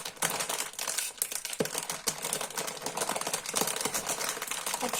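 Steady, close crinkling and rustling of a bag of hot chips being opened, continuous plastic crackle with a few sharper snaps and no talk.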